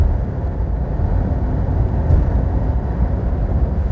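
A Princess/Ambassador wedge saloon drives on a public road, its engine and road noise forming a steady, loud low rumble from inside the cabin, without talk.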